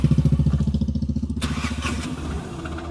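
A Tata Ace Gold mini pickup truck engine idles with a steady, rapid chugging pulse, close up, then a brief rise in pitch as the throttle blips.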